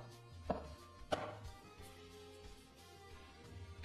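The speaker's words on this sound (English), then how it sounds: "To cut the napa cabbage" A knife chopping napa cabbage on a cutting board, two sharp close knocks early on, then quieter intermittent cutting against a low steady background hum.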